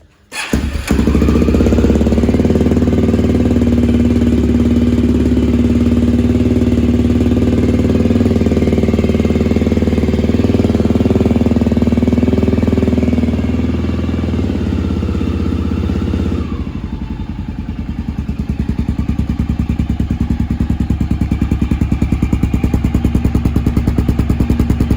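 A Honda XR650L motorcycle fitted with a Big Gun header starts on choke and settles into a loud, steady, thumping single-cylinder idle close by, the tone shifting partway through as the revs drop slightly.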